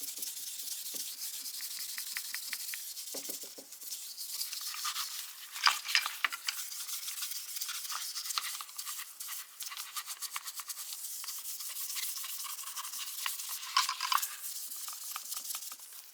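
Steady, close-up scrubbing as a fine abrasive pad and a toothbrush work over the handles of Channellock 420 tongue and groove pliers during restoration, a continuous bristly rubbing with brief louder strokes and no talking.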